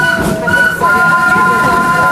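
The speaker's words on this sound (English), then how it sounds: "Please remain seated while the train is in motion." A loud, steady rumble of the Wildlife Express Train at Disney's Animal Kingdom rolling along the rails, with sustained metallic tones and a faint voice mixed underneath.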